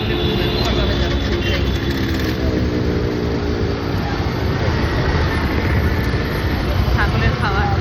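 Motorbikes and scooters stream along a wet Bangalore street just after rain, a dense, continuous roar of engines with no gaps, while someone talks over the traffic.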